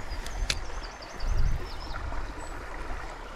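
A small waterfall on a trout stream gives a faint, steady wash of falling water, with a couple of brief sharp clicks and a short high bird call over it.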